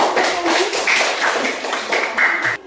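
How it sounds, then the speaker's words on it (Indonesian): Children in a classroom clap hands together in a dense, steady patter that stays loud throughout and then cuts off abruptly near the end. "Tapi kan tepuk tangan."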